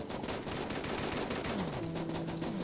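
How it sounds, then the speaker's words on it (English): Video game gunfire in Starbound, with several players firing the same cheap gun at one target, makes a fast, dense rattle of overlapping shots at moderate level, with rising and falling electronic tones running through the barrage. "when we all shoot at the same thing together, it's really effective"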